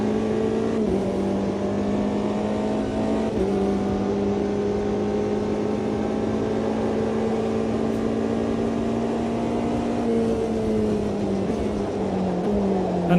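A Porsche race car engine drones steadily in the Automobilista 2 racing game, holding a loud, sustained tone with slow pitch shifts through gear changes and no speech over it.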